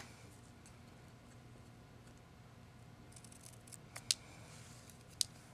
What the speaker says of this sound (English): then cut from the corners into where the top of that